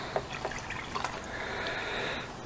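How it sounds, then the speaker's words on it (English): Water splashes and trickles into a plastic Tupperware container, starting with a few drips and settling into a light, steady pour that rises slightly in pitch. "I'll add a little bit of water to my Tupperware"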